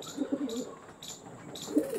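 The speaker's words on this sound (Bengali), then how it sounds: "খুব সুন্দর চোখের পায়রা" Andhra pigeons give soft, close coos in two short bursts with a pause between, over faint background hiss and no talking.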